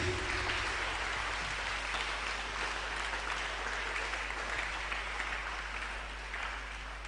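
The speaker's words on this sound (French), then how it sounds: "So Jesus, clap your hand for Jesus." A congregation claps for Jesus at a Pentecost Sunday worship festival, with a dense, continuous wash of applause sustained evenly throughout under a constant low hum.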